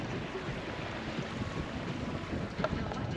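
Steady wind roars across the microphone aboard a boat under two sails in a 4–5 m/s breeze, with broadband rushing noise and faint water wash, no voices.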